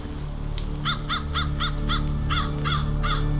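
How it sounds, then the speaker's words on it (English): Several crows caw in quick repeated bursts, fairly close, over a steady low hum of background noise. "crows jump from branch to branch, cawing and laughing in the gray morning light"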